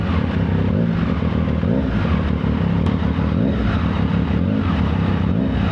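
A 2024 Triumph Street Triple R fitted with a Zard exhaust is revved continuously and loudly at close range, a dense, raspy engine roar with a slight whistle in it.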